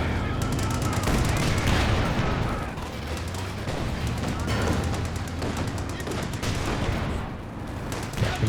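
Dense crossfire in a Company of Heroes 2 battle, with machine-gun bursts and rifle shots popping off from both sides in a busy, loud stretch over rumbling battlefield noise.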